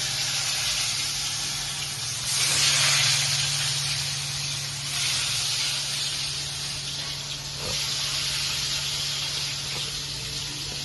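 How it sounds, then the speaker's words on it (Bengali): Papad and sliced potatoes frying in hot oil in a pan in a home kitchen on a rainy day, a steady close sizzle and hiss with periodic louder bursts of spattering, no voices. "এই পাঁপড় ভাজা চলছে, এই যে আলু ভাজা চলছে"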